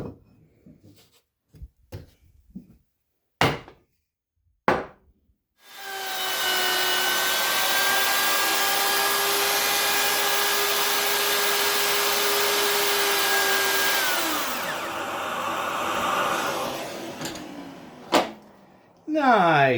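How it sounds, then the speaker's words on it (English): A router cuts a cavity in wood for a bed build, a loud sustained whine lasting around nine seconds, framed by scattered knocks and clicks of handling before and after. "I'll get the router out."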